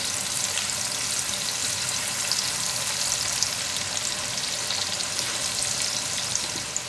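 Onions fry steadily in a pan for a Surinamese chicken gizzard sambal, giving a continuous close hiss and crackle of sizzling at an even level, with no voices over it.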